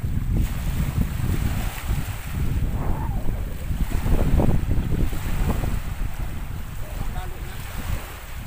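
Strong wind and big waves buffet a boat at sea during an island trip near Buyayaw Island, a loud continuous roar of gusts and water sloshing with heavy wind noise on the microphone.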